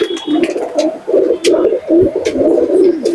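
A male pigeon in a loft gives repeated, close, throaty cooing in rolling bursts, with faint clicks and rustling around it.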